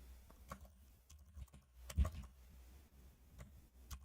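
Fingers typing C code on a computer keyboard, irregular sparse clicks with one louder thump near the middle, close and quiet with no talk.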